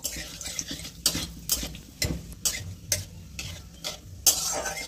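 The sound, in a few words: frying black cumin and dried red chillies in oil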